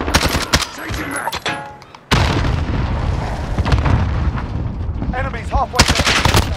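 Bursts of rapid automatic gunfire and heavy booms from online multiplayer combat in Call of Duty Modern Warfare, loud and dense, with a brief lull before sustained firing resumes.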